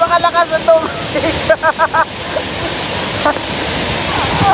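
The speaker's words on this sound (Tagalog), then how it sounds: "napakalakas ng tubig" Powerful rushing water at a waterfall in Negros Oriental roars as a dense, steady wash that grows louder toward the end, with brief voices and chirpy bursts early on.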